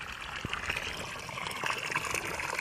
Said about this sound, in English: fresh water. See how beautiful it is.